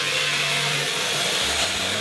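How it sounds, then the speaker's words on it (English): A bottom bowl gouge cutting the inside of a wooden bowl spinning on a lathe, giving a steady, loud hissing scrape over a low motor hum, continuous and close. "we could switch over to the aptly named bottom bowl gouge"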